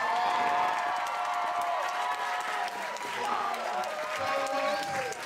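A poetry night audience claps and cheers for the poets, a continuous wash of clapping with scattered whoops and voices layered over it.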